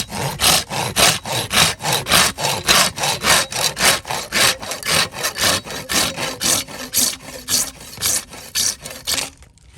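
A Gyokucho Razorsaw Japanese pull saw cuts through wood in steady back-and-forth strokes, close and loud, with a regular rasping rhythm for the full length and no voices.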